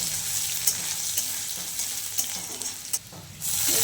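Carrots fry in hot oil in a pan with garlic, giving a steady, close sizzle with occasional utensil scrapes and clinks as they are stirred, and the sizzle grows louder near the end.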